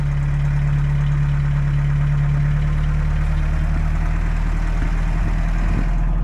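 Car engine with a new exhaust and new tires idles steadily and loudly up close, a deep constant low rumble with a slight rise in revs near the end.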